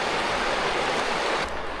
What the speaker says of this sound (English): That's a nice river.